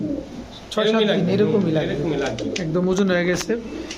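Pigeons coo in soft, throaty rolling calls, close and fairly loud, with voices talking underneath.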